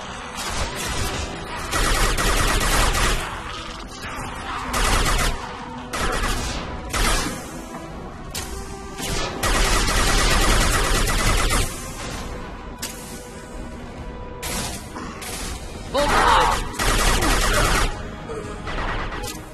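Gunfire and explosions from combat in the Mass Effect 2 video game, a dense, loud run of shots and blasts in repeated bursts with short lulls, no talking over it.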